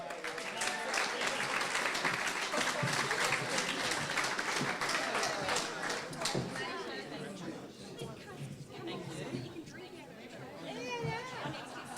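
Gala dinner audience applauding the year's top 10 winners, a dense, steady wash of clapping mixed with crowd chatter that carries on throughout and eases slightly toward the end.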